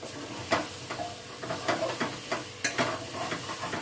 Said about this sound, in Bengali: ঝিঙেটাকে দিয়েও নাড়াচাড়া করে নিচ্ছি।